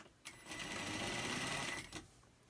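Sewing machine stitching a fabric face mask with a nose wire runs in one steady burst of about a second and a half, fairly close and even, starting and stopping cleanly with no talk over it.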